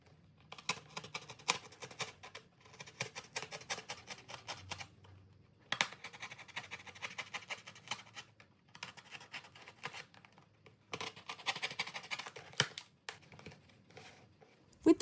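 A craft blade cuts through card along a dotted line for a Nutcracker costume head, making dense bursts of close, crisp scratching and ticking in uneven runs with short pauses, and no talking.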